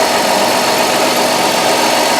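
A 2005 Dodge Grand Caravan's 3.8-liter engine idles steadily after valve cover gasket work, a continuous even hum with faint mechanical ticking, close and unchanging throughout.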